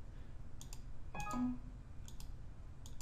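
A single mouse click confirming a payment on a Korean online shopping site, a short close click standing out against faint room hum and a few quiet ticks.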